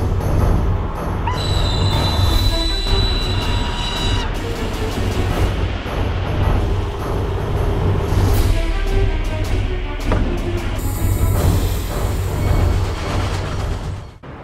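An HLB regional train pulls into Aschaffenburg Hauptbahnhof with a loud, steady rumble and high metallic wheel squeal rising and fading over the rails, heard close and continuous throughout.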